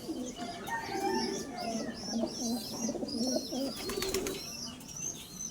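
Red Devil pigeons coo steadily in a loft, overlapping throaty coos layered with higher chirps and a few sharp flutters, close and continuous throughout.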